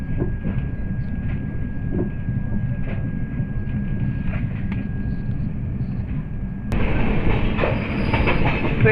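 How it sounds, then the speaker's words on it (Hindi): Siddhabali Jan Shatabdi Express (Delhi–Kotdwar) pulling into Bijnor station, a steady loud rumble of rolling railcars and wheels on track that swells abruptly louder near the end with a sharp metallic clack. "Train is arriving at Bijnor."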